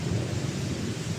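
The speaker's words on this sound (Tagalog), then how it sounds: "Nag-ulan na po dito." Heavy rain with a deep rolling rumble of thunder, a dense, continuous wash of sound with no voices.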